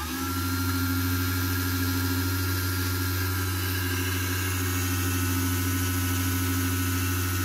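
A vintage Delco rotary transformer, a 12/24 VDC input dynamotor putting out 574 VDC, runs at steady speed with a loud, constant low hum and a whining mechanical drone that stays level and unbroken throughout.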